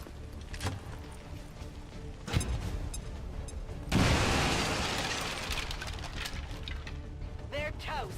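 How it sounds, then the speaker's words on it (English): A grenade goes off in the turn-based strategy game XCOM 2, a sudden loud blast that hits mid-scene and leaves a broad rumbling roar slowly fading beneath quieter game sounds and a soft voice. "Grenade out."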